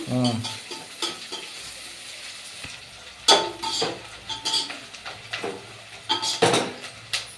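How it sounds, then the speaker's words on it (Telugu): Onions fry in a pan for egg biryani until golden red, with a steady sizzle broken by repeated spoon scrapes and clinks of metal against the pan, heard close with no voices. "ఎర్రగా బాగా ఎర్రగా వచ్చేంత వరకు ఫ్రై చేసుకున్నాం"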